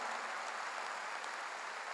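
Congregation applause at a Korean church revival service, a faint, steady wash of many hands clapping together that continues without break.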